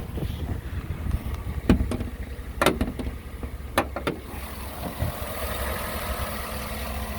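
Quiet V8 engine of a 2013 Chevrolet Tahoe LT idling low and smooth, broken by a few short sharp bursts of revving, then a steadier hum, heard nearby without voices.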